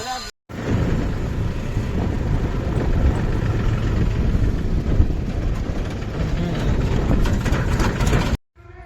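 A loaded tractor's engine runs steadily on a rural road in Gujarat, a continuous low, heavy rumble that stays loud throughout, briefly cut at the start and end.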